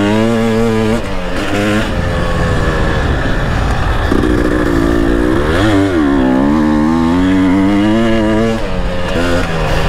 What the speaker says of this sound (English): His bike sounds so much nicer than mine.